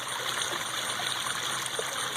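Steady bubbling and trickling of water from a bubbling rock in a backyard pond, a soft continuous flow heard close by and alone.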